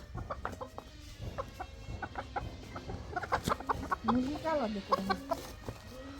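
Chickens cluck repeatedly nearby in short, uneven bursts, with people talking in the background.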